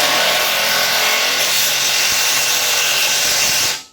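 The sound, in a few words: wrench torquing truck bumper bolts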